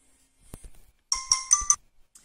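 A phone ringtone sounds for an incoming call, a bright electronic chime that pulses four quick times, close and clear, after a few soft handling knocks and with no speech.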